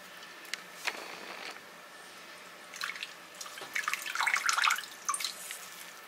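Soaked ingredients for bun dosai batter are rinsed and squeezed by hand in water, giving scattered wet splashes and drips that grow busier and louder toward the end, with no talking.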